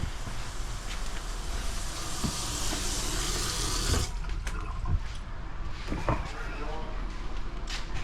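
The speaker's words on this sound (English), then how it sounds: "Alright, the homeowner is going to turn the water on." Water is turned back on through newly relocated kitchen plumbing under a slab, a loud rushing hiss for about four seconds that then cuts off, leaving quieter knocks and faint trickling; voices talk over it.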